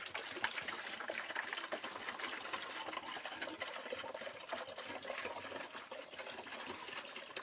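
Water bubbles and gurgles continuously as it is aerated for an enzyme cleaner mixture, a close, busy churning sound with a motor-like buzz, steady throughout with no voices.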